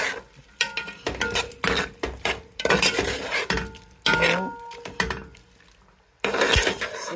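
Noodles with prawns stirred in a pan, utensil scraping and clinking against the metal in repeated bursts with light sizzling underneath, pausing briefly near the end before resuming.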